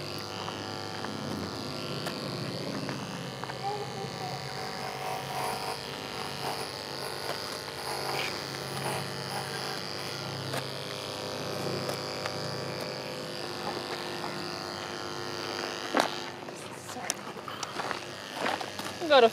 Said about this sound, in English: We'll do this other side now.